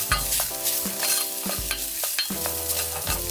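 Onions and a spoonful of flour are stir-fried quickly in a pan, with several rhythmic scraping strokes and clinks against the metal over a constant sizzle, close-up with no speech.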